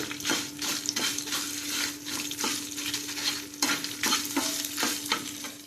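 Uppu dose and pachir frying in a pan, a steady close sizzle broken by regular scraping strokes of a spatula stirring the food, with a faint constant hum underneath and no talking.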